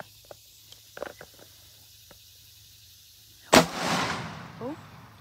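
A single loud 30-30 rifle shot fired with iron sights while sighting in outdoors, a sharp crack at close range followed by a long rolling echo that fades over about a second, after a few faint handling clicks.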